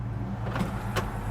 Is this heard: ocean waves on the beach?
no